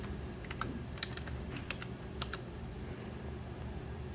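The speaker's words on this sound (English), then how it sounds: "I like to go down to the search box and just type in speech" Fingers type on a computer keyboard in quick, light clusters of key clicks, close and fairly faint over a steady background hum.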